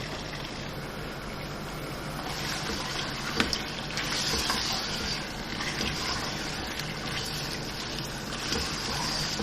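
Chicken pieces frying in oil in a karahi, a steady broadband sizzle and hiss running continuously throughout, fairly even in level with slight swells, no talking.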